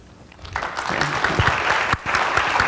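An audience at a live show breaks into applause, the clapping swelling from quiet to a steady, dense crowd sound with no one speaking.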